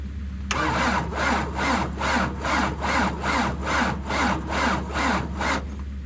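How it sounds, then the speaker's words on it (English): A frozen vehicle engine cranks without starting, the starter churning in a steady rhythmic cycle of about a dozen strained turns, loud and close, with no catch before it stops. "Start vehicle ignition."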